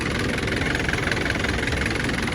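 A car engine idles in a steady, loud, even rumble close by, heard alone.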